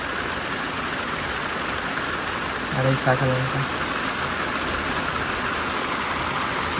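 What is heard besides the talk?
heavy rain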